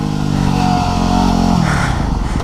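A dual sport motorcycle engine revs hard and steadily, loud and close, as the rider throttles up a staircase, the pitch holding then dropping slightly toward the end.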